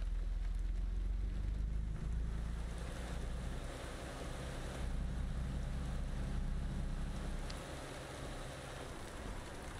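Heavy truck engine in American Truck Simulator pulling away in first gear, a low rumbling drone with a rising tone early on, steady and fairly quiet with a slight swell mid-clip, no speech.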